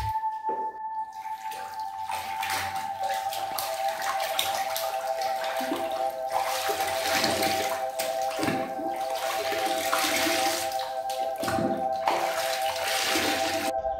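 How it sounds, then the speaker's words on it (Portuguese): Cinnamon-infused water is poured over the body from the neck down during a bath, a close, continuous splashing and trickling stream with uneven surges and drips and no voices. "vai jogar a água de canela do pescoço para baixo."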